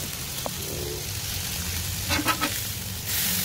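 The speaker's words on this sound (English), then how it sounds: "That's a better sear on this burger." A burger sears on a Blackstone griddle with a constant, close crackling sizzle, broken briefly by a few spatula scrapes and ending in a louder hiss.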